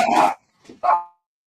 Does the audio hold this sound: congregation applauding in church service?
no